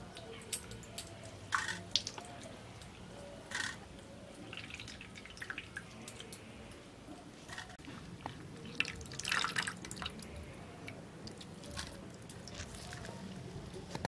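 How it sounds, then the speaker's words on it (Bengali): Boiled soybeans squeezed by hand, water dripping and trickling into a container in a kitchen. Faint, irregular drips and small splashes, quiet and close. "সেদ্ধ করা সয়াবিন থেকে এইভাবে নিগড়ে জলটা আলাদা করে নেব।"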